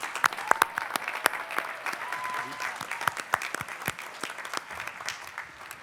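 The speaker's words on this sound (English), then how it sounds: "May I once again have a round of applause for our faculty and our faculty awardees" A university commencement crowd gives a round of applause for faculty and award winners. Claps are moderate and somewhat sparse, with distinct individual hand claps standing out over a softer crowd wash throughout.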